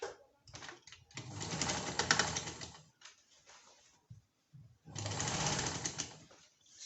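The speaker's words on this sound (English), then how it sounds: "Then I'll start sewing." A sewing machine stitches a seam on a dartless skirt in two bursts of steady whirring, close by, with brief quiet pauses between runs.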